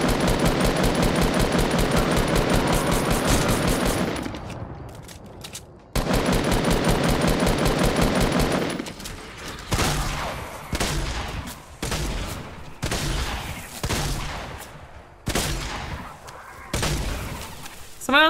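Rapid bursts of gunfire in the video game Fortnite, with a sustained automatic-weapon stretch at the start followed by choppier, spaced volleys of shots, loud and close throughout.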